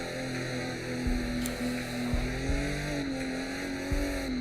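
A drift car's engine rumbling at a steady, loud pitch with slight waver as it throws into a huge-angle tandem drift entry toward a wall, with a few sharp low thumps along the way.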